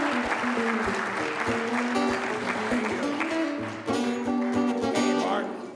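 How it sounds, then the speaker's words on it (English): Studio audience applauding to welcome a guest on a live morning show, continuous clapping mixed with music playing throughout, briefly dipping before swelling again. "How about a big round of applause for my special guest, Mr. Matt Pinfield."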